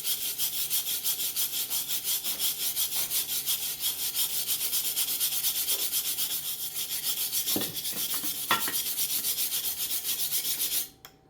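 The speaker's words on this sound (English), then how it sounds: "It doesn't necessarily need grinded, but because of all the splatter, we are going to have to grind it." Weld splatter is ground off a steel brush guard and weight mount for a mini tractor, a continuous loud abrasive rasp that runs for about ten seconds before stopping abruptly.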